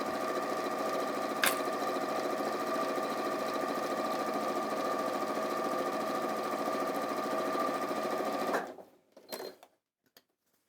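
A sewing machine runs steadily as fabric strips are fed under it, a loud continuous motor whir for about eight seconds that stops abruptly, followed by a few brief clicks and handling noises.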